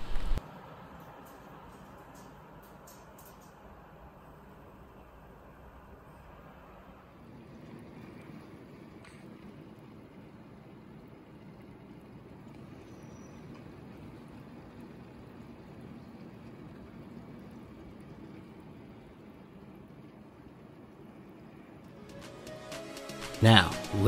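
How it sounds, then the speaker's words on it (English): Steady, faint whirring fan noise from a PC CPU cooler, comparing an AMD Wraith air cooler with an AuraFlow X 240 liquid cooler. The low hum shifts in character partway through, and brief knocks come at the start and end. "Now just listen to the Wraith cooler versus the water cooler sound decibel."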